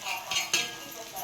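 A spoon or spatula scrapes and clinks against a pan while village-style bitter gourd sabzi with masala is stirred and sautéed on a griddle. It is a brief, close sound with one sharper clink midway.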